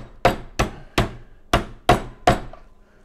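A meat tenderizer pounds a piece of top sirloin on a board, six firm, evenly spaced thuds about half a second apart, close and loud, with no talking.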